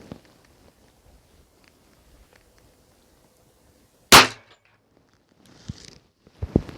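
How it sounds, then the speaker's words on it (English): A single sharp gunshot cracks out loud and close from a handgun firing reloaded Federal Syntech TSJ bullets, set against near silence, with a few softer clicks and handling sounds afterward. "I'm going to see if I can get these two to fire, and then we'll call it quits."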